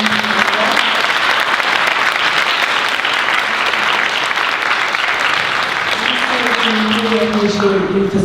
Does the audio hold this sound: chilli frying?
no